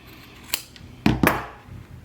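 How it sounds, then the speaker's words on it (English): Scissors trimming a fabric seam allowance while sewing a French seam: a few crisp, close snips, one alone and then two in quick succession, in a quiet room. "So, trimming this seam allowance."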